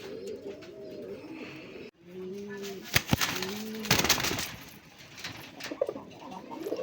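Rasgolla and old-breed desi pigeons coo in a repeated, rolling pattern close by, their low throaty calls recurring through the stretch alongside a few sharp clatters and light rustling.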